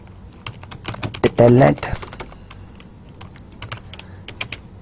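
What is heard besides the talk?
typing on a computer keyboard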